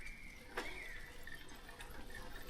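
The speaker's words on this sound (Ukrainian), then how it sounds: "Ось тут ще один струмочок. Водичка чистенька, чистенька." A small, clean forest stream in woodland flows with a steady, soft trickling wash, faint and continuous, with a brief brighter splash near the start and no voices.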